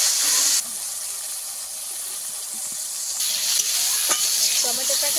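Chopped tomatoes fry in a pan with pointed gourd and garam masala, giving a steady close hiss and sizzle with a few faint stirring knocks.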